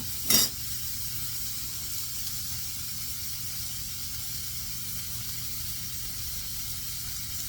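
A hamburger steak fries in a pan with a steady, close, loud sizzle that runs unbroken after a brief sharp burst at the start.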